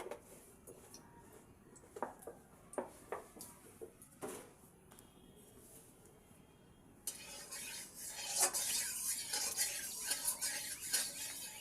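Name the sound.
stirring ground lentil paste with oil in a pan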